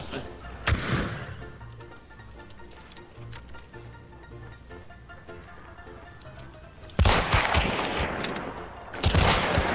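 Gunfire in the shooter game Hunt: Showdown, with a few loud close shots early on, then dense bursts of distant and near firing crackling continuously toward the end, mixed with game ambience.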